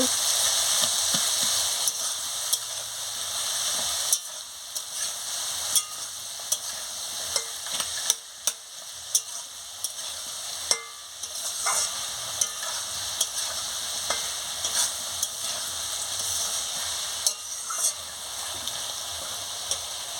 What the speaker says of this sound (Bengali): টমেটো কুচি দিয়ে দিচ্ছি, আলু আর মাছের মাথা দিয়ে দিচ্ছি, দিয়ে ভালো করে আনাজটাকে কষিয়ে নিচ্ছি